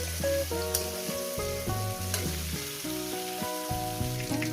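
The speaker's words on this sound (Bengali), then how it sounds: "দিয়ে এবার চার পাঁচ মিনিট ধরে ভাজবো" Pointed gourd and onion fry with a pinch of turmeric in a pan, a steady close sizzle with scraping stirs, no voices.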